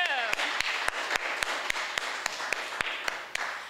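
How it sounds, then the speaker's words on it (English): A crowd applauds under continuous chatter, with a steady series of sharp claps standing out at an even rhythm. "Another round of applause."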